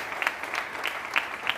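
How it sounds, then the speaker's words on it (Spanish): Audience applause on a Spanish talk show set, steady dense clapping heard at a moderate distance with a few brighter individual claps standing out. "un aplauso para ellos porque hacen un trabajo extraordinario"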